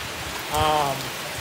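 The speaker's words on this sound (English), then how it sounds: "The longer I've been out here, the harder this shit started to rain, bro." Heavy rain falls steadily outdoors as a dense, even hiss throughout, with a brief muffled voice-like sound rising over it midway.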